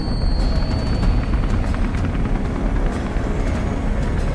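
A helicopter's rotor in the video game Beyond: Two Souls thrums loudly and continuously, a heavy low rumble with rhythmic chopping throughout.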